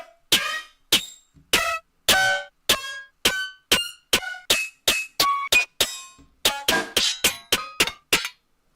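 Custom layered snare drum samples built from construction-kit transients, about eighteen sharp, bright hits in a steady rhythm with short tails and some pitched ringing tones, loud and close with no voice.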